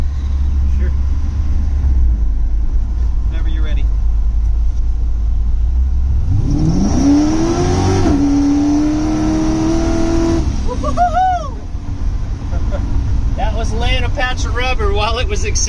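A 1954 GMC truck accelerating hard, the engine roaring up in pitch for several seconds close by, with people talking over it before and after.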